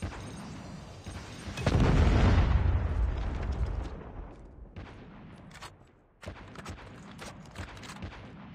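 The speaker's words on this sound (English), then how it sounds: "Friendly Predator missile inbound" A Predator missile strike in a Call of Duty raid match lands as a heavy, rumbling explosion that swells, roars for a couple of seconds and slowly fades before sparse gunfire and game effects return.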